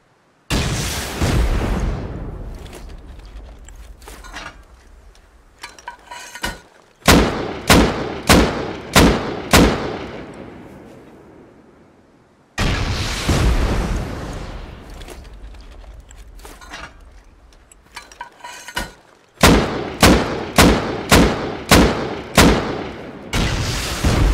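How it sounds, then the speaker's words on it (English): Rocket launcher explosions in the video game Rust: two loud booming blasts that decay slowly, each followed by a rapid series of sharp, evenly spaced thumping bursts, close and powerful. "Move back, he has a rocket launcher out."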